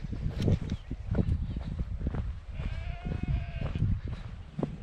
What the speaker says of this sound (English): Sheep are just going.